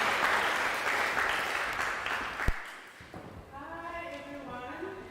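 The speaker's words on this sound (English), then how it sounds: "let's give her a rousing round of applause" A crowd at a Citizen Leader Lab celebration event applauds steadily for a presenter coming to the stage, then the clapping thins out as a person starts speaking over the tail end.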